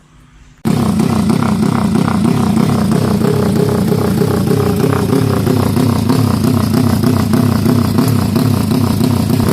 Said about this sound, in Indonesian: kemudian mengetes motor itu